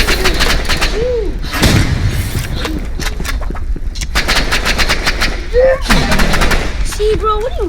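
Gunfire in the video game Rivals: sharp bursts of rapid shots and single cracks, close and loud, with people talking throughout.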